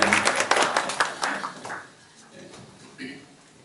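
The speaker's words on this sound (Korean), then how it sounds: "박수 한번 해주세요." A church congregation claps at a worship service, loud bursts of many hands for the first two seconds before fading into quieter room noise and a few scattered sounds.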